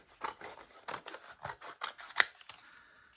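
Scissors cut through paper for a concertina book, a quick series of close crisp snips and crunches, about ten cuts in an uneven rhythm, with no talking.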